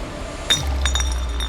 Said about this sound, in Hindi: ग्लास गिर गया, नहीं पी पाया वो आज का डोज।